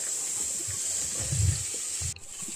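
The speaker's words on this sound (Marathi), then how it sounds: "यामध्ये मी गरम पाणी घालणार आहे" Hot water pours and splashes into a pan of chickpeas frying in spiced oil in a short gush, with a louder burst in the middle before it tails off.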